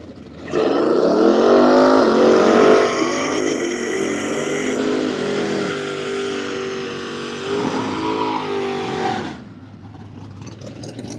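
Two drag racing cars, a big-tire street car and a small-tire drag car with wheelie bar, launch and roar down the strip together in a loud sustained engine howl that shifts pitch and fades as they pass, with no talk.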